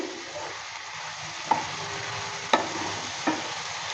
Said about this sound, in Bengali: ঢাকনাটা সরিয়ে নেড়ে চেড়ে নিয়েছিলাম আবারও নেড়ে চেড়ে নিচ্ছি